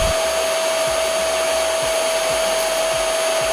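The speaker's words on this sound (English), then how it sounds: "And it's about 73 decibel at the second speed." A Homeika H016 cordless vacuum cleaner runs steadily at its second speed setting, about 73 decibels, at close range, a loud, constant whine with a high pitched tone, uninterrupted throughout.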